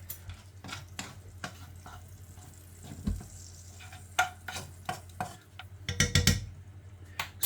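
Flour and liquid worked into a paste without a whisk, soft irregular scraping and clinking taps of a utensil against a pan or bowl at close range, fairly quiet, with no talking.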